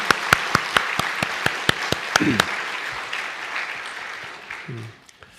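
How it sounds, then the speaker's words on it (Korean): Church congregation applauding at a Korean New Year's first Sunday worship service, starting with distinct sharp claps and swelling into a broad, steady wash of applause that fades out, with a brief voice near the end. "우리 한번 격려해 한번 박수를 드리겠습니다"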